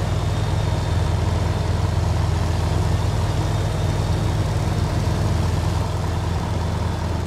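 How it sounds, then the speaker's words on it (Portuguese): A diesel fuel pump running in Farming Simulator 22 makes a constant low mechanical drone and hum, steady and unbroken throughout at fairly loud volume, with no voices. "Olha o barulho da bomba."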